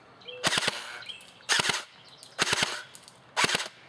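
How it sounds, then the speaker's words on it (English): Four bursts of airsoft gun fire outdoors after a small hop-up adjustment, spaced about a second apart, each a cluster of sharp snapping pops with faint ambient background between. "Now I'm going to shoot a little bit after I made a slight adjustment."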